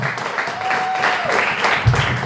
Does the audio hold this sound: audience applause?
yes